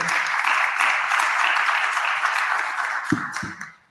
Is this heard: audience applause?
yes